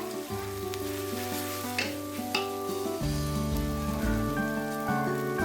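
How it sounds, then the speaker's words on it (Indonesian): Grated coconut sizzling with spices in a pan as it is stirred for sayur urap, a soft, steady crackle under melodic background music. "Aduk-aduk sampai bumbunya tercampur semua ke kelapanya."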